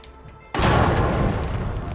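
A dynamite blast in the space exploration game Astroneer: after a quiet moment comes a sudden loud booming burst, followed by a heavy rumble that fades only slowly.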